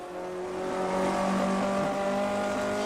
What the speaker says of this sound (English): Sounds like he was over revving it there.